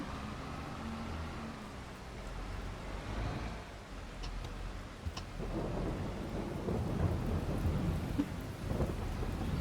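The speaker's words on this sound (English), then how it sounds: "get out of this rain" Rain falls steadily on a forest farm while thunder rumbles low and long at the start, then the rain patter grows louder and denser with a few sharper drops.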